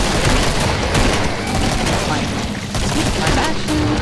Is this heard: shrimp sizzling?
no